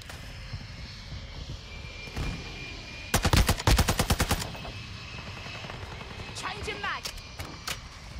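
Rapid automatic TAQ V rifle fire in Modern Warfare 2: one loud, fast burst of closely spaced shots, with a few scattered single shots afterwards over a droning background, while a person talks through the clip.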